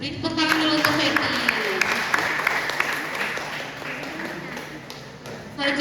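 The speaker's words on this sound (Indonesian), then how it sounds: "Beri tepuk tangan dulu untuk Fetty." Crowd applause for contestant Fetty at a Poltekkes student competition, a dense, steady clapping wash lasting several seconds that swells slightly at the end, with a voice and some tonal sound faintly underneath.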